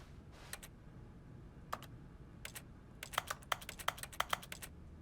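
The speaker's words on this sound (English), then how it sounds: "When I click the mouse, it sounds like I'm typing on the keyboard." Mouse clicks in the video game The Stanley Parable that sound like keyboard typing: a few scattered taps, then a quick, irregular burst of crisp clicks, close and dry, with no talking.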